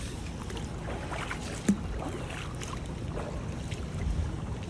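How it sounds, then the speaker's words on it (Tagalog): Someone wades through floodwater on a flooded road in Jeddah after heavy rain, with irregular sloshes and splashes under steady wind noise. "Kundi lumusong sa baha."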